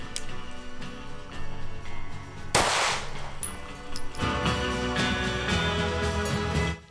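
Pistol shots at a shooting range: one sharp loud crack near the middle, followed later by a second, more muffled blast whose noise lingers, over a steady background hum.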